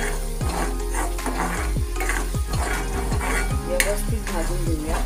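Ghati masala roasts in oil in a pan while being stirred, a loud, close sizzle with repeated scraping strokes of the spoon and faint clinks throughout.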